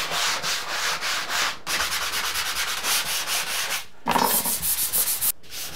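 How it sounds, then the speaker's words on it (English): Joint compound on a drywall wall being sanded by hand, a steady scratchy rubbing in repeated back-and-forth strokes with brief pauses between passes, close and fairly loud with no talking. "I can sand the rest."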